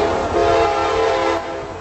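A loud, sustained horn from an approaching train blaring close by over the rumble of the moving train, holding steady before easing off slightly.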